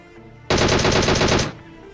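Rapid automatic gunfire from a video game shooter, a loud dense burst of about one second that starts abruptly and then cuts off.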